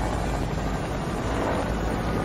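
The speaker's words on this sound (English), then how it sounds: "There's a chopper that's just flying down." A helicopter flying in a video game, its rotor roar loud and continuous at close range, filling the whole moment with no voices over it.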